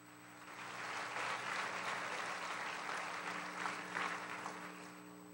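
Applause at a memorial service for George Floyd honoring Remus Wright, a soft, distant, continuous roar of many hands that swells in and holds steady with a faint steady hum underneath.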